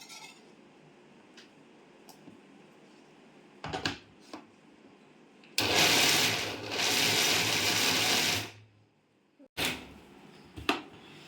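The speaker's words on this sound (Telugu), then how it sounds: "ఇప్పుడు దీన్ని మిక్సీకి వేయబోతున్నాను." A kitchen mixer grinder whirs loudly for about three seconds grinding dried turmeric into powder, framed by quieter clinks and handling of the jar before and after.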